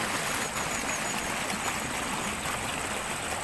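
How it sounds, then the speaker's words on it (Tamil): Water pumped by a 5 HP motor rushing into irrigation channels of a paddy field, a steady broadband splashing and gurgling flow, moderately loud and unbroken, with no voices. "5 HP மோட்டர்னால தண்ணி ஃபோர்ஸாக இருந்தாலும் 2 வாய்க்கால்லையுமே 2 சைடுமே தண்ணி விட்டுக்கிறோம்."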